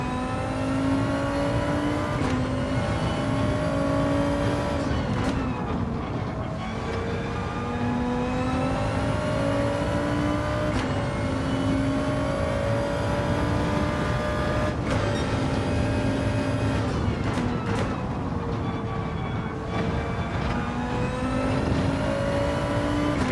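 A race car engine in Gran Turismo 7 at the Brands Hatch Grand Prix Circuit, loud and close, revving hard and rising in pitch through each gear before dropping sharply at repeated shifts, with brief lifts and downshifts.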